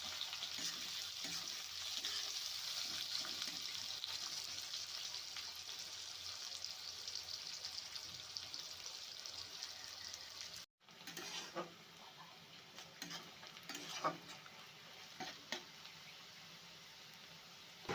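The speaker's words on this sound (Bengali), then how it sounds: "পেঁয়াজটা হালকা নাড়াচাড়া করে একটু লালচে করে ভেজে নেব।" Three chopped onions with a bay leaf sizzle steadily in oil in a pan, a soft hissing fry that then gives way to scattered scraping and stirring taps.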